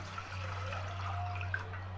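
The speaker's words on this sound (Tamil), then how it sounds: "நான் என்ன செய்கிறேன், 4 கப்பு தண்ணி இதில் சேர்த்துக்க போகிறேன்." Four cups of water pour steadily into a cooking pot over a low, constant hum, with a few faint clinks, while making agar agar cincau.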